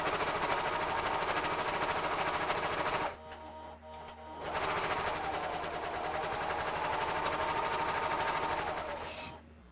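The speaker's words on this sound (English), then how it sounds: "it's going to look more or less straight as I serge it" A coverstitch machine sews a knit neckline with a steady, loud, rapid mechanical chatter that drops away for about a second before starting up again and running on to the end.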